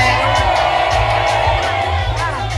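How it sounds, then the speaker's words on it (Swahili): Women ululating at a kitchen party, high trilling cries riding over a loud, continuous crowd din with cheering and music throughout. "Wapi vigelegele vya mama wewe?"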